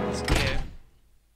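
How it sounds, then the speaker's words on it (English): Heavy door in the Batman: Arkham City video game opening with a single solid thunk and rumble, loud and close, quickly fading to quiet. "Now let's open the door."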